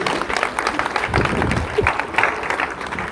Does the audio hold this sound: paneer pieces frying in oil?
no